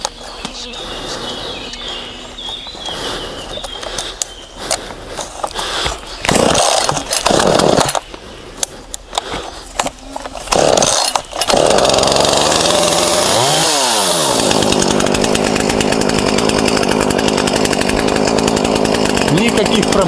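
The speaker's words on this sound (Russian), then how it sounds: "Холодный старт сейчас будем производить на Зимане 450." ZimAni 450 chainsaw cold start: several rough pull-cord tugs and sputters, then the engine catches and revs up before settling into a loud, steady high-pitched run close to the microphone.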